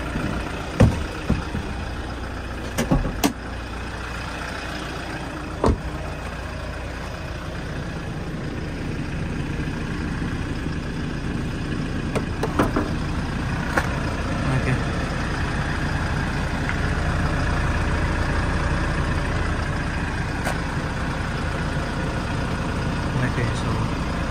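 A truck engine idles steadily in a low, even rumble, joined by a few sharp clicks and knocks near the start.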